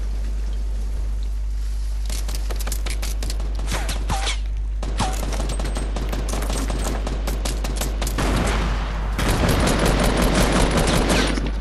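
Gunfire in the video game Fortnite, rapid bursts and fusillades of shots crackling repeatedly over a steady low hum, loud and close, with no talking.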